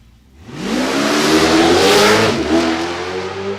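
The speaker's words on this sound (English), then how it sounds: "As you can hear the Mopar muscling its way down track" A black and gold Mopar drag race car launching down the strip, its engine roaring up in a loud, rising sweep that builds over a few seconds and holds at full power, heard alone.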